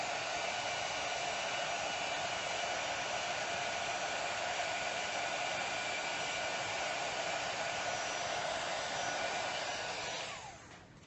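Heat tool drying mixed media paint, a continuous loud blowing whir held close for about ten seconds before it winds down and cuts off.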